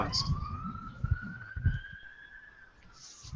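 A police siren wails steadily in the background, faint and distant, under brief talk and laughter.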